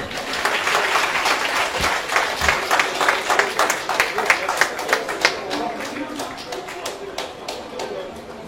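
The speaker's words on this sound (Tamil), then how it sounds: "நல்ல கைத்தட்டலாம்" Applause from the audience at the inauguration of a community hall in Chrompet. Many hands clap in a rhythmic patter that rises and settles over about eight seconds, with voices talking underneath.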